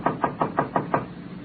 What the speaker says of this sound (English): He knocked on the door of room 12.